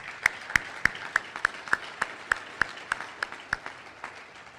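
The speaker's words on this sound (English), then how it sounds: "How about a big hand of applause for all our candidates?" A single person clapping for candidates at an annual meeting, about fifteen crisp, evenly spaced claps close to the microphone, gradually softening toward the end over a quiet room.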